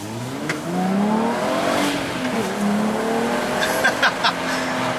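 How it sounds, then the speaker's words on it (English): A Volkswagen with a V6 engine accelerates hard on the road. The loud engine note climbs in pitch, drops at a gear change and climbs again, close and alone with no talk. "man, that V6 sounds good"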